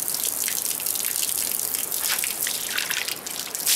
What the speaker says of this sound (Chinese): 水就出来了啊